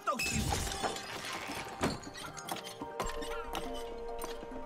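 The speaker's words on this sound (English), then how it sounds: "I jumped and broke the glass." Glass shattering in the video game It Takes Two right after a character's jump, a sharp crash with scattered tinkling debris, followed by further clinks and game ambience.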